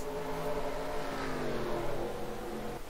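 Race cars in the NASCAR Racing 2003 video game roar around the Bristol oval, a steady dense engine drone with rising and falling pitch as cars pass, fairly quiet and continuous with no voices.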